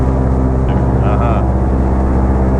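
Twin engines of a 1936 Lockheed 12A drone loudly and steadily in cruise flight at 1900 RPM, heard from inside the cabin, a dense constant roar with brief faint sounds over it.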